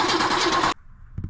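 A 1978 Mercury Z-7 car engine cranks with a loud, rapid starter churn for under a second, then cuts off abruptly, followed by a short faint rumble.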